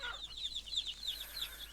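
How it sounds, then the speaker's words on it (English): Chickens cluck in the Ranch Simulator farming game, a quick run of short repeated clucks at moderate loudness with no talking. "There's probably going to be some more chickens in there"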